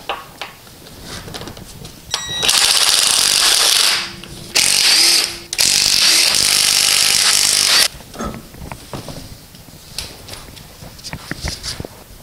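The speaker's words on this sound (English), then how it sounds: "the first thing we need to do is just remove the wheel" Power tool spinning off wheel lug nuts on a Subaru Sambar during a front brake job: a loud, close whirring, rattling burst of several seconds, briefly interrupted, then quieter clanks and handling noises of tools.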